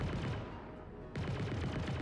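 A Tumbril Storm scout tank's size 3 cannon fires in a rapid, dense stream of booming shots in a space combat game, loud and continuous with a short dip partway through.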